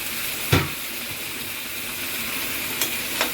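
Vegetables hit hot spiced masala in a pan and sizzle loudly and continuously, with a thump as they drop in and a couple of later scraping knocks from a spoon.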